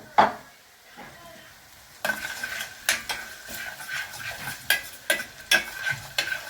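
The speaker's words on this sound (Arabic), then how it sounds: "احط شويه زيت صغيرين كده لما يسخنوا عشان انزل فيهم ايه بالثوم" Garlic dropped into a small amount of hot oil in a pan for a home-cooked moussaka and zucchini béchamel casserole, sizzling steadily and close, with a spoon stirring and scraping against the pan in repeated bursts.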